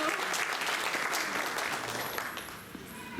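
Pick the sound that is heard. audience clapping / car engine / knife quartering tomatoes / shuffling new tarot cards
audience clapping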